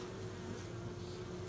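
Honey bees inside a beehive make a faint, steady droning buzz that continues unbroken, with no speech over it.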